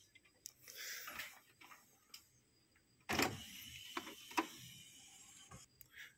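Ink carriage of a Canon tank printer shifting inside the machine, giving faint mechanical whirs and clicks in short bursts, with a louder clatter midway, heard alone at low level.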